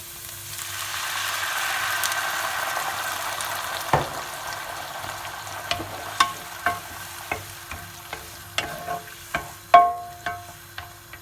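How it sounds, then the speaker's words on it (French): A pan is deglazed with 20 centilitres of white wine while cooking bacalhau à brás, Portuguese salt cod. A broad hiss swells and fades, then sharp scraping stirs click out at a steady pace, close and clear. "On peut déglacer avec 20 centilitres de vin blanc"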